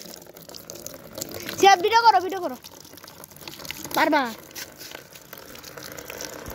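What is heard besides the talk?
water starting to flow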